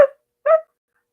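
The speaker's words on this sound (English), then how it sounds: "a dog in the distance began barking" A dog gives two short, sharp barks, the second coming about half a second after the first, with silence around them and no voices.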